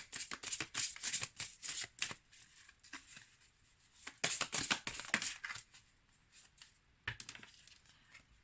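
Tarot cards shuffled and drawn in quick bursts of crisp papery riffles and flicks, close and fairly quiet, with short pauses between handling sounds and no talking.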